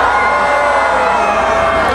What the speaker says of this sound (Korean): 한번 함성 한번 들어볼까요?